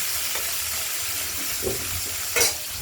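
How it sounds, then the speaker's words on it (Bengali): Potato, ridge gourd and tomato frying in a pan make a continuous close sizzle, with a few soft stirring scrapes and one brighter hissing flare near the end. "ভাজা ভাজা করে নিচ্ছি বা গলিয়ে নিচ্ছি।"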